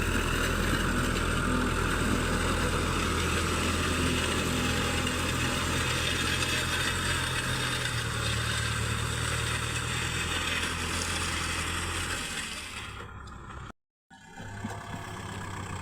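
A Kubota tractor engine runs steadily while plowing a rice field in Laos, a continuous mid-pitched drone with a brief dropout near the end, heard alone without talking.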